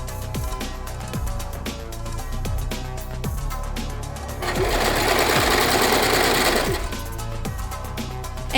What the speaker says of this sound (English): I'm going to take this crotch piece and sew it along here.